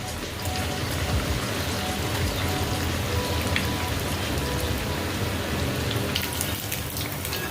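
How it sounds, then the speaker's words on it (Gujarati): Cheese corn balls deep frying in hot oil give off a loud, dense, continuous crackling hiss that holds steady without a break. "હવે આને આપણે ફ્રાય કરીશું."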